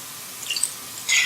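Water and milk, a cup and a half of each, poured into the filling for a Great Depression-era hot water pie. Brief trickling splashes come first, then a steadier, brighter pour rises near the end, close by and alone with no talking.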